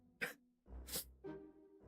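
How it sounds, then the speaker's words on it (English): Several short sharp bursts close to the mic, a sneeze-like explosive gasp and huff repeated about three times in under two seconds, fairly quiet overall. "I sneezed all the fluid out of my body."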